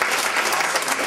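Brief burst of dense applause from a morning audience at a community organization event, loud and continuous for about a second.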